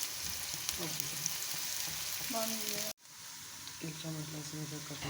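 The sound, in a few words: chopped onions frying in oil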